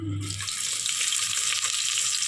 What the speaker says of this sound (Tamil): பட்டை லவங்கம் இது நல்லா புரிஞ்சு வரணும்